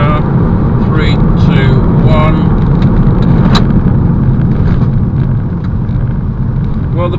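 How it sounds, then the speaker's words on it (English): A 2010 Audi A3 1.8 S Line Sportback Edition brakes firmly from 50 mph on the road. A steady, loud rumble of road and engine noise fills the cabin the whole time, with faint brief squeaky tones on top. "I'm just going to do a very firm brake from 50 miles an hour"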